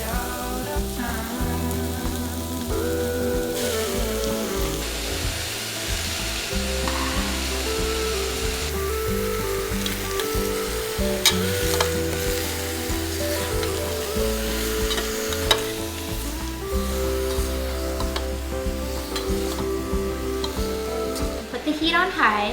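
Pork belly sizzles and crackles as it is stir-fried over high heat in a pot for Taiwanese braised pork rice, a steady close hiss with occasional utensil clinks and scrapes, and someone talks over it at times.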